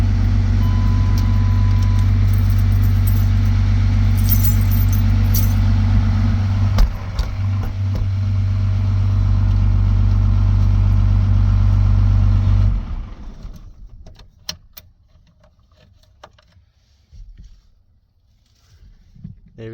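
A 12 valve Cummins diesel engine idling with a loud, deep, steady rumble close by, then shutting down and winding away into near quiet with faint knocks.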